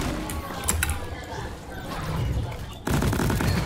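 Gunfire volley in Deep Rock Galactic: rapid mechanical firing with clattering weapon mechanisms, a quieter stretch, then a louder burst near the end.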